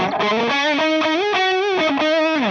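Electric guitar through a Boss DS-2 Turbo Distortion pedal plays a short melodic phrase, heavily distorted, thick and buzzy with sustained gliding notes, loud and close.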